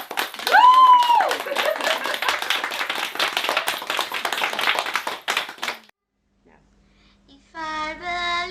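Audience clapping fills the first six seconds as a dense, steady wash of many hands under a sung or whooping voice at the start, then cuts to near silence before children's voices begin singing or talking.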